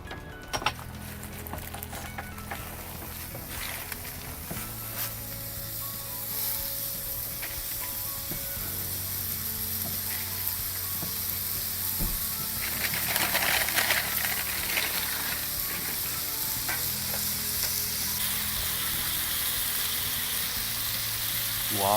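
Wagyu beef burger patties fry on a hot surface with a continuous crackling sizzle that swells louder partway through, with occasional light clinks and scrapes nearby and no talking.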